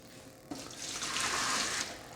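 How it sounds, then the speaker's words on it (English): Hot water suddenly starts flowing from the hot water tap of a Lelit Bianca espresso machine, a steady hissing stream that rises slightly and continues alone, close by. "So we can get about this much water out of the hot water tap"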